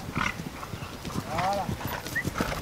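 A ridden horse's hooves clip-clop in an uneven rhythm during a riding session, fairly close, under ongoing French speech from people nearby.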